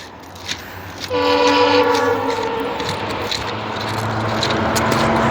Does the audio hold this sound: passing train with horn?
yes